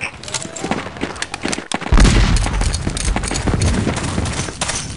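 Musket volley fire in Battlegrounds 1.2.1 during a linebattle, a sharp crackling fusillade followed by a booming rumble and scattered shots, mixed with voices and battlefield noise.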